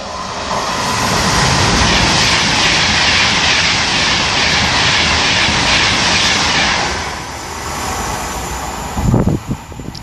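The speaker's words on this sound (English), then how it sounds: "Passing through is a Virgin Pendolino bound for London." A Virgin Pendolino passenger train bound for London passes at Acton Bridge, a loud, steady broadband roar and rush of wheels and air that holds for about seven seconds, then fades and trails off with a few closer knocks near the end.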